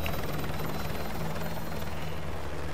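A helicopter in Call of Duty: Modern Warfare 2 Remastered runs with a steady, loud rotor thrum and a low drone that hold unbroken throughout.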